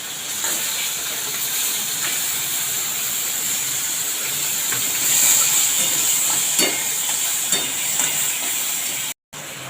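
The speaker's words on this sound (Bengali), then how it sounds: "এরপর কাঁকড়াগুলো আমি ভেজে নিয়েছি এক এক করে তুলে নেব" Sea crabs from Digha frying in hot oil give a steady, loud hiss and sizzle that runs nearly unbroken throughout, with no talking.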